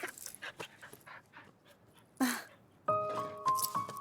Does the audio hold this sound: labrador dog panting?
yes